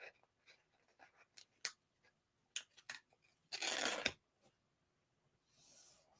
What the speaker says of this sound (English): I'm just going to peel a little bit of that center piece back.